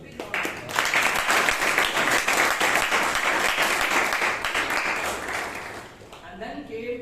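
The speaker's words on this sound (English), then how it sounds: "So can we have at least one big round of applause?" A Toastmasters club audience gives a big round of applause, dense and loud clapping lasting about five seconds before fading, after which a voice begins speaking.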